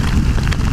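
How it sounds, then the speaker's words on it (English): Steady rain noise heard while riding a Honda CB250RS motorcycle, a dense continuous wash of low rumble and hiss, loud and close throughout, mixed with wind buffeting. "but yeah, that's proper rain."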